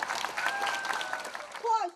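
A crowd at a Lantern Festival gala in Shoufeng Township claps for the township chief, a soft, continuous wash of applause heard under someone speaking.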